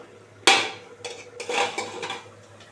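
Metal lid lifted off a pot of simmering fish curry with potatoes, one sharp clanking scrape followed by a few lighter metallic rattles, close and clear.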